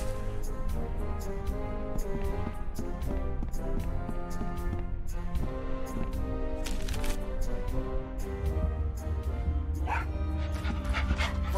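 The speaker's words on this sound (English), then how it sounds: "Oh, such a cute little dog." A dog in the Tales of Monkey Island video game barks, yips and whimpers in a busy run of sharp calls over a steady musical background, with a brief voice in between.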